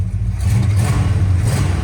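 A long-forgotten Dodge Monaco brought back to life revs with no load, its V8-style rumble steady and loud close by, rising slightly in one sustained pull.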